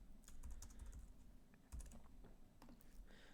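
Fast tapping on a computer keyboard while entering data into SPSS, quiet close clicks coming in short irregular bursts with brief pauses.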